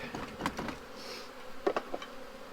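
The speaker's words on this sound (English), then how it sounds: "these are Saskatraz bees" Saskatraz honey bees buzz around an opened hive during a transfer into a new Apimaye hive, a faint, steady drone with a few louder passes of individual bees nearby.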